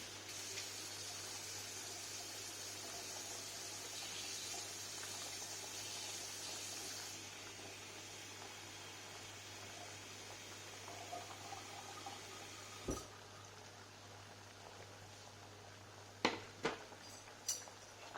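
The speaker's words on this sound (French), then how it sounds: "Ici, l'eau bout beaucoup trop fort." A pot of water boils far too strongly for poaching eggs, making a steady close rushing, bubbling roar that eases partway through, with a few sharp clinks near the end.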